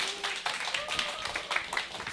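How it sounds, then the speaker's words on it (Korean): Audience clapping at a product seminar as a speaker is invited on stage, a thin, fairly quiet patter of hands with a voice speaking briefly over it. "힘 박수 부탁드립니다"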